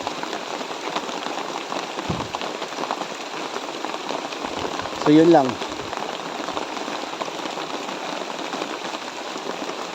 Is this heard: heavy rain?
yes